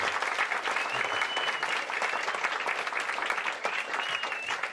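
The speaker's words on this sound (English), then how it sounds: "Give her an all big round of applause." Audience applause for a singer at an evening lecture and performance event in the Burren, steady, dense clapping at an even level throughout with no talk.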